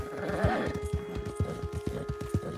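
A horse in the video game Red Dead Redemption 2 trots with regular, close hoof clops and lets out a whinny near the start, over a steady tonal game hum.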